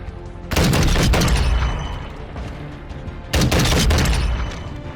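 Submachine guns fire in Modern Warfare 2 multiplayer, in two loud sustained bursts of rapid shots separated by a short, quieter stretch of game ambience.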